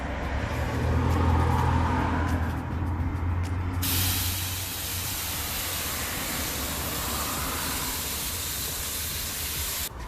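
Steady broadband hiss of water being misted over seedlings, continuous and fairly loud for the whole stretch, growing brighter and fuller partway through, with no talking.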